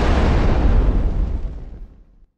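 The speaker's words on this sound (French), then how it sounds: "ces explosions sont des changements de scène" Explosion sound effect used as a scene transition, a single loud booming blast that rumbles and fades out over about two seconds.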